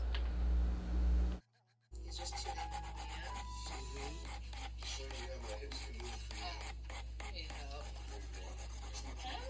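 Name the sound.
filing acrylic nails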